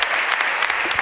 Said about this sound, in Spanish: Un aplauso para Willy.